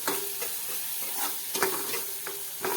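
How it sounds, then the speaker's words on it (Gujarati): Spices loosened with a spoonful of water, for a snack made from leftover rice, sizzle steadily in a pan over a low gas flame. Rhythmic spatula scrapes and stirring knocks sit close over the constant frying hiss. "મસાલા આપણા બળે નહીં તેના માટે આપણે 1 ચમચી જેટલું પાણી નાખી દેશું અને બધી વસ્તુને સારી રીતે મિક્સ કરી દઈએ"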